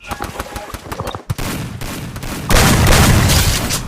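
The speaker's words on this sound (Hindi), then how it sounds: "मेरा बंदा कवर फायर कर रहा है।" Cover fire in a shooting video game comes as rapid, loud gunshot bursts that build into a dense sustained volley in the second half, with no talk.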